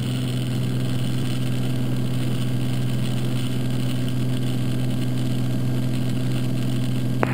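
Piston engine of a Beechcraft Bonanza at runway 13 left, Boeing Field, droning steadily and loudly at close range for the whole stretch, with no voices heard.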